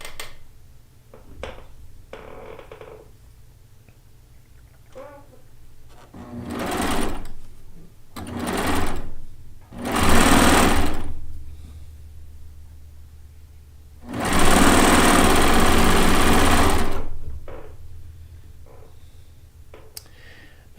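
A cover stitch machine of the serger family pieces a quilt top in several bursts of rapid stitching, short runs at first, then a longer sustained run, with quiet pauses and faint handling noise between.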